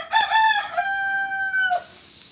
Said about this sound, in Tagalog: Kasi paghapon talaga nagtitiktilaok ang manok para makapaantok.